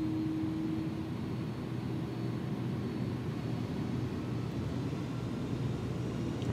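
Airliner engines at takeoff power in a flight simulator, a steady loud roar with a brief tonal whine at the start that fades as the broadband rumble holds level throughout.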